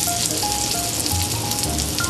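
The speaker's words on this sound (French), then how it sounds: "nous avons nos petites pommes qui commencent vraiment à cuire." Small potatoes sauté in a pan, giving a steady, close sizzle and crackle of hot fat that runs unbroken from start to end, with faint clinks and stirring in the background.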